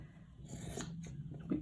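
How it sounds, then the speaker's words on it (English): Scissors trimming the loose extra bits of a handmade semicircle wall hanging, a few soft close snips and rasping cuts at steady low level, with no talking. "Which this bit is why you need a good pair of scissors."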